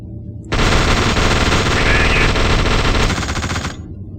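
Rapid automatic gunfire from The Suffering: Ties That Bind video game: a loud, dense, continuous burst of about three seconds that starts abruptly and cuts off sharply, with no talk.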